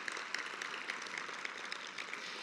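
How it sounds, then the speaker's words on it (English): Applause from an audience at a summit, a steady dense clapping texture with scattered sharper claps, moderately distant and alone. "How about a round of applause for all of us for turning out today?"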